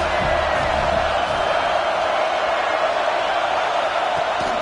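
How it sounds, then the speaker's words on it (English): Steady roar of a large football stadium crowd at a Penn State–Temple game, loud and unbroken throughout, a dense wash of voices with no distinct cheers standing out. "This crowd trying to make life miserable for this offense"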